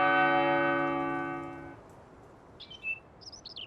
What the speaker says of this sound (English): this church over here on the hill has church bells